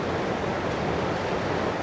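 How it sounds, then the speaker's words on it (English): A large volume of water pours down at a waterfall in a Scottish gorge at the Punchbowl on the Mar Lodge Estate, making a steady, dense, close roar that continues without a break. "The volume of water coming down"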